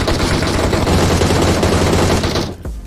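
Rapid, loud gunfire in a battle royale video game, an unbroken burst of automatic shots close by that cuts off near the end, with no talk over it.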